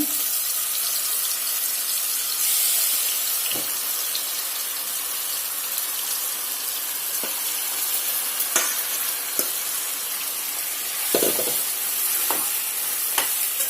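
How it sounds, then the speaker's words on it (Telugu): Chicken pieces frying in hot oil and melted ghee for a nawab chicken curry, a continuous dense close sizzle with occasional clinks and scrapes of pieces being added and stirred, no talking. "నూనె వేడెక్కిందండి నెయ్యి కూడా కరిగిపోయింది ఇప్పుడు మెల్లిగా ఈ ముక్కలు దీంట్లో వేసుకోండి"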